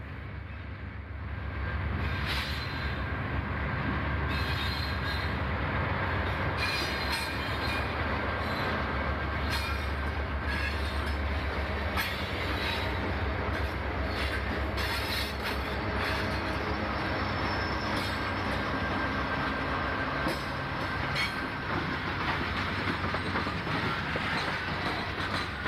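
A train led by a pair of Susquehanna GE B40-8 diesel locomotives rolls past, a steady loud rumble of wheels and cars with rhythmic clicking and occasional squeals over a low engine drone.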